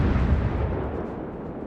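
Battleship main guns firing shells in World of Warships, a loud deep booming blast that rumbles and decays over under two seconds.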